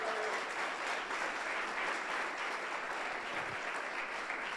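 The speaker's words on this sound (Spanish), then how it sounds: "dele ese fuerte aplauso" A church congregation claps after a sermon, steady crowded applause that stays even and full for several seconds, heard at moderate level without speech over it.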